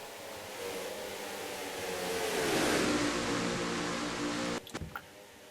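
Stock-style race car engines roar in a sim racing game on the Brickyard 400 oval, a loud sustained drone swelling as the pack draws close, then dropping off into a few sharp clunks; no voices.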